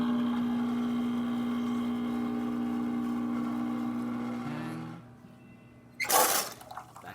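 An Expobar Office Lever espresso machine being tested with a blind filter after a shower screen and gasket replacement hums steadily with its pump for about five seconds, then cuts off and releases a short sharp hiss of backflushed water.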